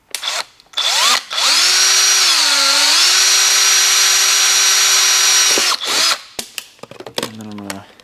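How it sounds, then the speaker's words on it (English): A power drill bores a hole into a plastic water bottle, giving a loud, sustained whine that dips in pitch partway under load, framed by short starts and stops. Brief bursts of talk come near the end. "So I'm just drilling a hole initially."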